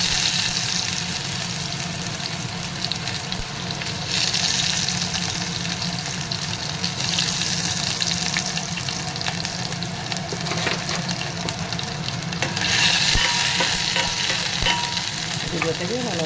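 Chopped ginger and garlic sizzle and crackle steadily in melted ghee and oil for a dhaba-style dal tadka, a dense continuous frying hiss with occasional stirring scrapes, close and fairly loud, no talking.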